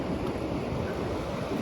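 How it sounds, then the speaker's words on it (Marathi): Sea waves wash onto a shore in a steady, broad roar, with wind buffeting the microphone throughout. "तर भावानो परत लाटा आल्या."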